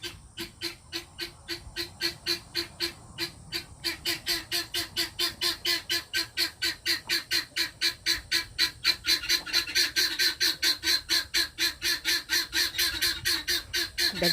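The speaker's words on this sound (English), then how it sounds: "The guineas, they don't know what happened, and they want to go out." Guinea fowl on a Texas homestead squawk in a steady, rapid rhythm of harsh repeated calls, several birds close by and fairly loud, growing busier and more insistent through the stretch with no talking.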